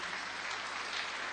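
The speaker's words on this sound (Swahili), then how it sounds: "Makofi, tafadhali." A church congregation at a live-broadcast gathering breaks into a full, dense round of applause, with many hands clapping close together and no talk.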